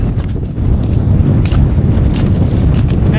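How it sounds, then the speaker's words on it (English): Strong, relentless wind on Scafell Pike in the Lake District buffets the microphone in a loud, continuous roar with heavy low-end rumble and no talking. "Wind's just relentless."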